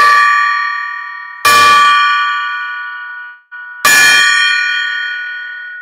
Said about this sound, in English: Oh, I got to ring the gong.